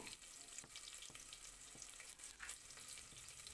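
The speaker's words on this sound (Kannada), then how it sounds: "ಅದು ನೀಟಾಗಿ ಸ್ವಲ್ಪ ಈರುಳ್ಳಿ ಫ್ರೈ ಆಗಬೇಕು" Onion fries quietly in a tempering of oil, mustard seeds and curry leaves for a village-style sprouted horse gram curry, a faint, even sizzle with soft crackles and no voices.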